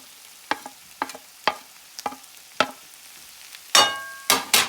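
Peppers and green onions being stirred in a pan for a Guyanese breakfast, with a series of sharp scraping clicks at a steady pace and a louder burst of sizzling and clatter at the end; no one speaks.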